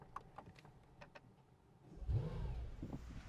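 A few faint clicks, then a 2024 Mercedes-AMG S63 engine cranks and fires up with a deep rising roar that settles into a loud, rumbling idle.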